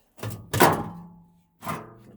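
Scrapped front-loader washing machine door parts knock and clunk as a piece is pulled free: two hollow thuds close together, then a pause and a third duller knock, near and fairly loud, with no talk.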